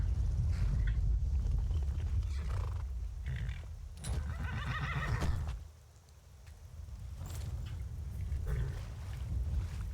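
A horse whinnies in the video game Skyrim amid steady background rumble and some clopping, loud and close, with a brief quiet dip partway through.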